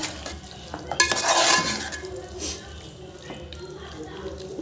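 A spoon scrapes and stirs chicken curry with mashed tomatoes in a sizzling pan, clattering bursts over a steady fry, while someone talks nearby.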